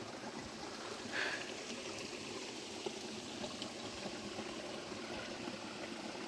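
A small waterfall somewhere in a forest along the Narmada, heard as a faint, steady, distant rush of water that continues evenly throughout with no talking.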